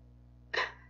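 A voice imitating a falling sound while reacting to a stop-motion animation: one brief, breathy burst of about a third of a second, close and fairly loud over a faint steady hum.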